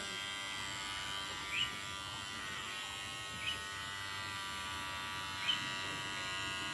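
Electric trimmer cutting hair and beard at home, a steady close-up high-pitched buzz held throughout, with three brief louder flares as the blades catch hair.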